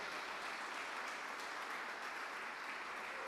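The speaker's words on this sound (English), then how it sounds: "Another massive round of applause," Audience applause at the Springfield Scottish Squash Open 2023 semi-final session, a steady, dense wash of clapping held at an even level for the whole stretch, no voices breaking through.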